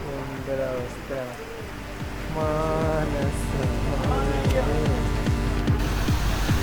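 Rain falls outdoors near Karapuzha Dam in Wayanad, Kerala, a steady broad hiss that grows heavier partway through, with voices talking over it.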